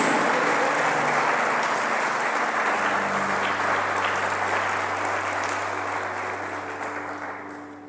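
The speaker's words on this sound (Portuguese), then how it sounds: "dê um brado de vitória, aplauda forte a Jesus, pois Ele é o nosso Deus" Church congregation applauding during an Easter service, a loud, dense wash of clapping that holds steady for several seconds and then slowly fades, with a low sustained tone underneath.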